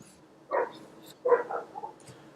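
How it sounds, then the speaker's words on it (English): Dogs bark from somewhere outside an apartment, giving a few short, muffled barks in quick succession, moderately loud but not close. "Can you hear those dogs barking?"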